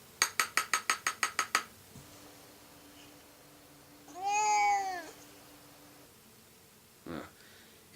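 Cat meowing in a 1964 film, a single drawn-out meow in the middle, preceded by a quick run of bright chiming clinks and followed by a short faint sound near the end.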